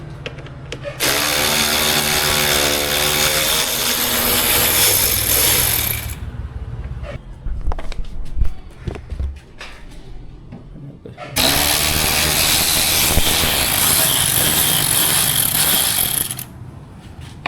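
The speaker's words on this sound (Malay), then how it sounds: "So kita buka skru ni." A power tool driving out a screw on a BMW car part whirs in two long, loud, steady runs, separated by a gap of clattering handling noises, close to the mic with no talk.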